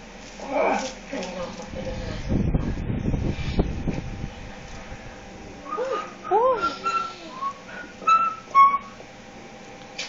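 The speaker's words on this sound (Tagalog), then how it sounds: "Sipol." Short melodic whistled notes in a house setting that rise and fall in brief phrases, with breathy noise and other sounds earlier on.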